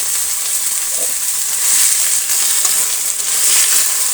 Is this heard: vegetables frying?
yes